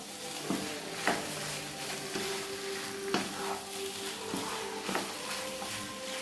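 Chicken sautéing and being stirred in an open pan for a Kerala-style coriander chicken fry, with a steady sizzle broken by periodic scrapes and clinks of a spoon against the pan.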